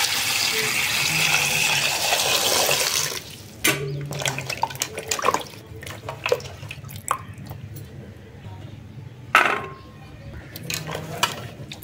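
Chopped tomatoes and green chillies are washed under running tap water for village-style rice. A few seconds of steady gushing water give way to scattered splashes, drips and clattering in a bowl, close by.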